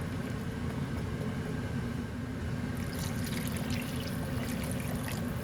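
Water poured into a pot of pumpkin and vegetables for soup, a soft trickle and splash over a steady low background hum, faint and continuous with brief splashier moments toward the end.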